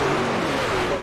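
NASCAR trucks racing at Atlanta in the iRacing simulator, a continuous loud roar of engines droning close by for a brief moment, with no talking.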